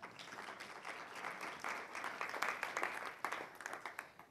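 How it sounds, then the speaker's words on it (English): An audience applauds presenters at a talk, a few seconds of steady clapping from a crowd that swells slightly before fading, heard from some distance. "I think we need another round of applause for 2 innovators who aren't asking us to give anything up."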